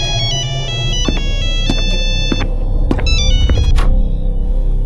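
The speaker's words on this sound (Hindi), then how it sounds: "तभी आनंद को एक फोन की रिंग सुनाई देती है जो उसके बाथरूम से आ रही है।" A phone rings from the bathroom in repeated bursts of bright electronic ringtone, loud and close over a low rumbling background.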